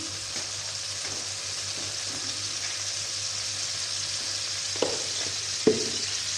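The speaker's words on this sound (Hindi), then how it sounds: "कढ़ाई में सबसे पहले मैं डालूंगी घी और थोड़ा सा ऑयल डालेंगे। इसको गरम करते हैं।" Ghee and a little oil heat in a kadai with a soft, continuous frying hiss over a low hum, broken near the end by two sharp metallic clinks; no one speaks.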